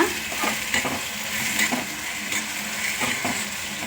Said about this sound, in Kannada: ಇದನ್ನು ಎಣ್ಣೆಯಲ್ಲೇ ಚೆನ್ನಾಗಿ ಹುರ್ಕೊಳ್ಳೋಣ.